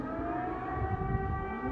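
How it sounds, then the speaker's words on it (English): A wailing air-raid siren in Kyiv, Ukraine, holds a sustained, layered tone throughout, heard from a distance with a low rumble beneath. "Sirens sounded in Kyiv Monday night"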